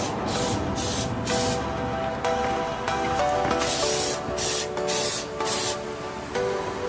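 Spray paint laid in a thick coat onto a flat object: a loud hissing aerosol in repeated bursts of about half a second to a second, separated by short gaps, close to the microphone.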